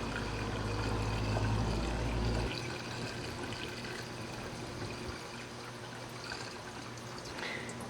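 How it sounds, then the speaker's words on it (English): Water pours steadily into a marine engine through the water-pump pipe, a loud continuous gush for about two and a half seconds that then drops to a softer trickle and burble, with no talking. "Now we'll fill this up with water until the engine is full"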